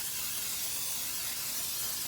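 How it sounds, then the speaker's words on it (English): Cooking spray hisses steadily into the bottom of a casserole dish for about two seconds, a close, even airy spray that cuts off abruptly at the end. "I'm going to go ahead and spray the bottom"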